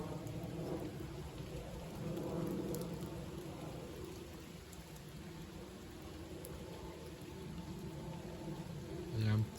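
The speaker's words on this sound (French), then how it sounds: "Ça pleut." Steady rain falls through an evening shower with a light westerly breeze, a continuous hiss and patter that holds an even level throughout and rises briefly near the end.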